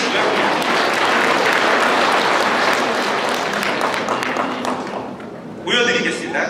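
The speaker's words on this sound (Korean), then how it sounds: "박수 한번 쳐주시고요" An audience at an education training lecture claps in a dense burst of applause that tapers off, followed by someone speaking over the room.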